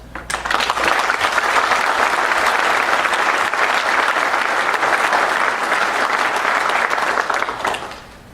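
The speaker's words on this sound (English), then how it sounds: "Please give yourself a round of applause." A conference audience at a furniture industry event gives a long, loud round of applause, thick continuous clapping that swells in quickly, holds steady for several seconds, then tapers off.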